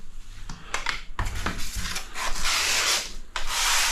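Grout is rubbed into the lines between tiles with a wash float, producing close, steady scraping and rubbing strokes that repeat in uneven bursts, with no speech.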